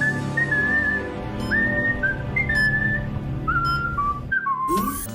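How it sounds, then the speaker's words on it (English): Number 4, a cartoon character from Codename: Kids Next Door, whistles a lilting tune in a clear series of sliding notes, steady and up close, with no talking. "you wouldn't believe the song Number 4 whistles as he returns home"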